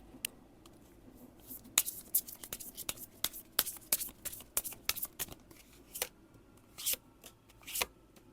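Tarot cards are shuffled close by in a flurry of crisp riffles and slaps, irregular bursts of card snaps over a quiet room, without talking.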